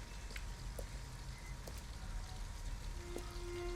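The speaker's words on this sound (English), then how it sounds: "At least we'd be out of the rain" Steady rain patters across surfaces in the game Detroit: Become Human, a dense even hiss with scattered drips, heard alone at moderate distance.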